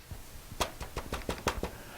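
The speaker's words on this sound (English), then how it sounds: "You knock on the door." About eight quick, fairly faint knocks on a door fall in an uneven rhythm over two seconds, with no voices.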